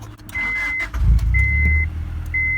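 A Honda Prelude with an idling problem cranks briefly and catches, then settles into a steady, close, loud idle, with a faint high whine running through it.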